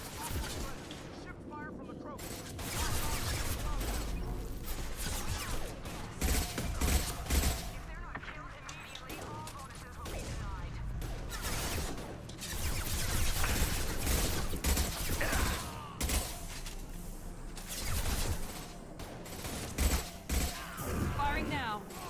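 Video game gunfire rattles in repeated bursts and volleys throughout, loud and dense, with players talking over the shooting.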